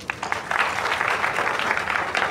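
Applause for Fasi from a small group at an online evening session on MCP, a steady patter of clapping lasting a couple of seconds, fairly close and moderately loud.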